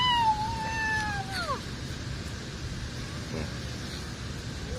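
Newborn kitten meowing near a house with two or three thin, rising and falling mews early on, then fainter calls over steady outdoor background noise.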